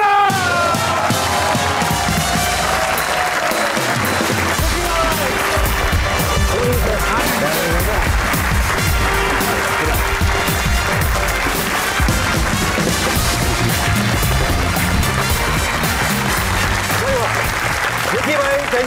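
A studio audience greets cricketer Waqar Younis with loud, sustained applause, dense clapping and some cheering filling the room steadily for many seconds as a voice talks over it.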